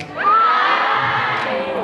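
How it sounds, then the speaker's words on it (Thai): Crowd at a Save G fan event shouting together, a dense burst of many voices that swells at the start and holds loud and steady to the end, with a whoop rising above the mass. "ตะโกนพร้อมกันคำว่าเซฟจีได้ไหมครับ"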